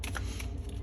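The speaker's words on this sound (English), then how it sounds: "this is my brand new Crystal Power Tarot. So, oops, shuffling it up." A brand-new Crystal Power tarot deck being shuffled, a brief close papery riffle with soft card slaps, brisk and alone.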